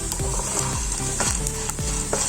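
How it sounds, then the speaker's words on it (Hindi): Sago (sabudana) roasting in a pan while being stirred, with a continuous close sizzle and rhythmic scraping strokes of the spoon, roughly one every half second. "बस ये अब हमारा साबूदाना रोस्ट हो चुका है।"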